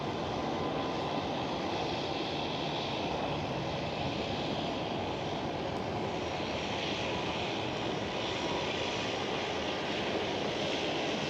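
A Transavia Airbus A321neo takes off at Amsterdam Schiphol, a steady, broad jet roar that holds loud and unbroken throughout, with no voices.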